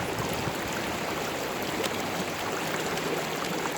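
A river flows steadily outdoors, giving an even, continuous rushing babble at moderate loudness with small splashy variations and no one speaking.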